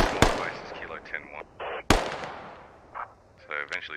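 Two sharp, loud gunshot cracks roughly a second and a half apart in a tactical shooter game, each decaying into a reverberant tail, with fainter in-game sounds scattered between and after.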